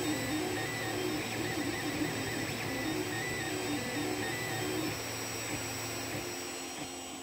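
A 3D printer printing a motor winder for rubber-powered models whirs steadily with fluctuating stepper-motor tones and a constant fan hum, continuous and fairly close, easing slightly quieter toward the end.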